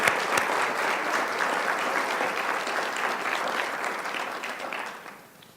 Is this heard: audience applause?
yes